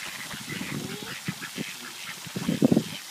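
Several ducks quack as they are fed bread thrown by a child, bursts of calls rising and falling, loudest in a cluster near the end over outdoor background noise.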